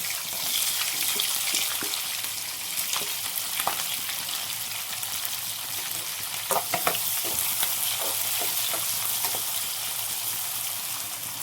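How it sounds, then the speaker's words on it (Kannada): Cumin, curry leaves, green chillies and onion frying in a pan, a steady close sizzle broken by scattered clicks and scraping stirs, no voices. "ಸ್ವಲ್ಪ ಜೀರಿಗೆ ಚೆನ್ನಾಗಿ ರೋಸ್ಟ್ ಆಗಿದೆ ಸ್ವಲ್ಪ ಕರಿಬೇವು ಹಾಗೆ ಹಸಿಮೆಣಸಿನಕಾಯಿ ಈರುಳ್ಳಿ"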